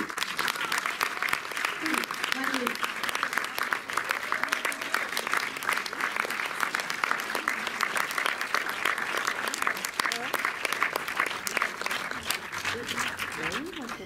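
Sustained, dense audience applause at a festival film screening welcoming the director, steady and full throughout with a faint voice underneath.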